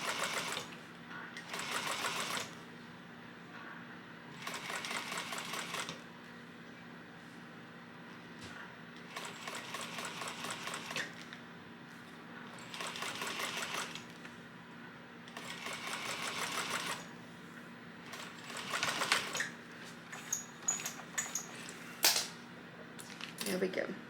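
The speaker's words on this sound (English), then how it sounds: "You're going to top stitch at 1/8 of an inch seam allowance." A sewing machine top stitches a crossbody bag in repeated short bursts of rapid rhythmic stitching, each run a few seconds long and separated by pauses, close by and fairly quiet.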